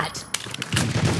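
A few sharp gunshots in the mobile shooter Hyper Front Lite, close and punchy, overlapping game effects and a voice.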